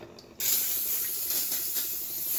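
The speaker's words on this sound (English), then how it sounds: "So I'm gonna spray some of this organic extra virgin olive oil." Organic extra virgin olive oil sprayed from a spray can: a sudden close, loud hiss starts after a brief quiet and holds steady for about two seconds with slight pulses.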